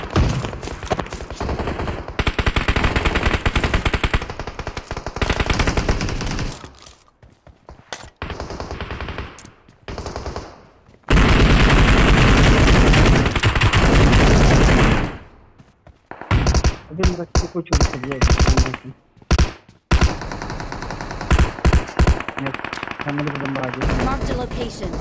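Machine gun gunfire in the video game Battlegrounds Mobile India on the Sanhok map, with long loud bursts and short rapid volleys, close and dominant, and a player's voice speaking between the shots.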